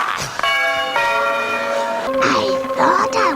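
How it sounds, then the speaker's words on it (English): A cartoon church bell rings with a bright, resonant tone, struck a few times in a row with each strike lingering and overlapping, while people talk over the ringing. "What was with that church bell noise?"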